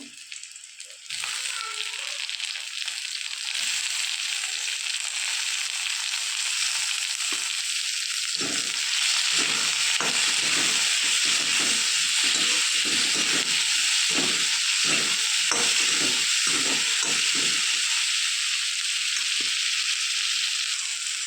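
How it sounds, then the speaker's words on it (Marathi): Fresh tomatoes go into a pan of onions already fried pink, giving a loud, steady sizzle and hiss of frying with occasional stirring scrapes, heard alone without talk. "कांद्याला छान गुलाबी कलर आलेला आहे आता आपण टमॅटो टाकूया"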